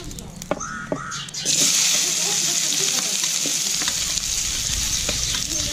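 Onion frying in oil on a wood-fired chulha for a spicy village-style mutton curry: after a brief quieter start with a few clicks, a loud, steady sizzling hiss surges up and holds close throughout.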